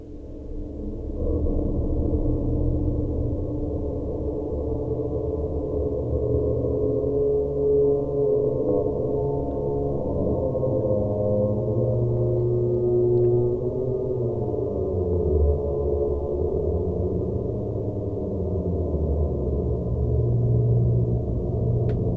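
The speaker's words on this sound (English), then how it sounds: "So this is what I like to call the everything reverb." A heavy, washed-out reverb effect made in Audacity, with a dense, sustained low-and-mid smear that drones and warbles steadily for over twenty seconds, loud and continuous with no crisp highs.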